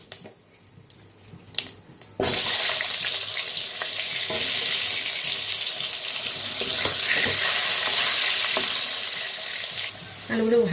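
Potatoes drop into hot oil tempered with bay leaf and whole cumin, setting off a sudden loud, dense hiss of frying that holds steady for several seconds with faint stirring scrapes underneath.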